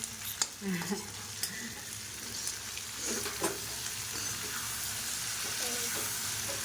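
Potatoes and prawns sauté in hot oil as a spatula stirs them, giving a steady close sizzle broken by scraping strokes against the pan.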